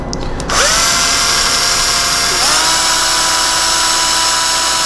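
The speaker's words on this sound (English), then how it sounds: "I'm just going to use this little cordless drill here to rotate the encoder" A small cordless drill spins a machine spindle encoder, its steady high electric whine running loud and close for several seconds after a brief start, with a slight change in pitch partway through.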